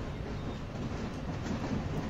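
A subway train runs steadily in a video game, a continuous mid-level rumble and rattle with no breaks and no voices.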